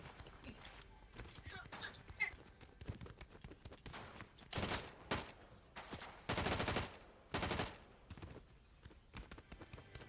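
Gunfire in the Fortnite video game, with scattered shots and several loud, sharp bursts of rapid automatic fire, some close and some farther off, with quiet stretches between them and faint voices in the background.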